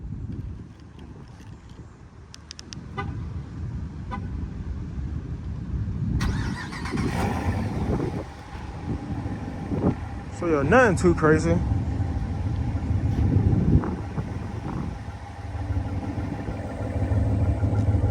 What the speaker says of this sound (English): We're gonna start this truck up.